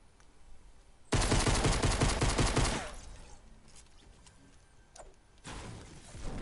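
Rapid automatic gunfire in a PS4 shooter game, a loud dense burst of about two seconds followed by quieter scattered shots and then another loud burst starting near the end.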